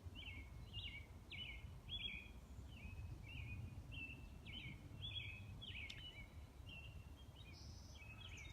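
Repeated short chirping bird song outdoors, a series of bright calls every second or so over a steady low rumble of distant background noise, with no voices.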